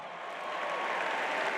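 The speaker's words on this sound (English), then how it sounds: "give them a round of applause" Applause from a convention crowd at a WorldVentures keynote, a steady wash of clapping that swells slightly over a short stretch and carries on without speech.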